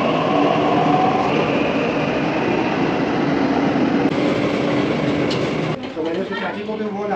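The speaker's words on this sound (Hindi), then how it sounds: "मैं बैठ गया मेट्रो में, कम से कम 45 आधा घंटा लगेगा।" Delhi Metro train riding from Saket toward ISBT Kashmere Gate, heard on board as a loud, steady rumble and whoosh that drops off near the end as the train slows, with light clatter after.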